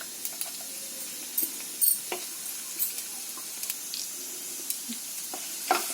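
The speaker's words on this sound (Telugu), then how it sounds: "కొంచెం బ్రౌనిష్ వచ్చే వరకు రోస్ట్ చేసుకో" Cashews, almonds and dates roast in a pan for pumpkin carrot halwa, giving a faint dry sizzle broken by scattered light taps and stirring scrapes, close and quiet, with no talk.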